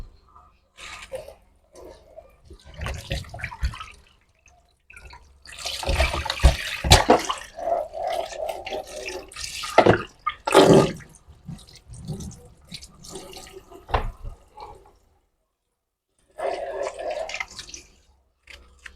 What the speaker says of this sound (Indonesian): ini terongnya Bunda cuci dulu sebelum Bunda potong-potong ya